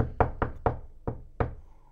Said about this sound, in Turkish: Of, kapı çalıyor ya.